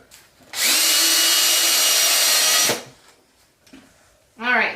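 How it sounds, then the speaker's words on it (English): Power drill driving screws through a hardbound book cover into a board, one loud sustained whine of about two seconds that winds down, followed by brief speech. "I'm going to take these screws and we're going to drill it into the board"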